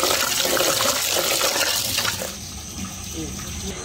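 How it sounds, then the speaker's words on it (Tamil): Snails are washed with water and turmeric powder. Close, continuous splashing and pouring water fades somewhat toward the end, with a voice speaking over it. "இப்போ மஞ்சள் தூள் போட்டு கழுவுறோம்"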